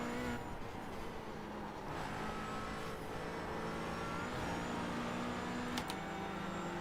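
Engine drone of a race car in the iRacing sim, a BMW, runs steadily with shifting tonal whine as gears change, loud and constant with a brief sharp click near the end.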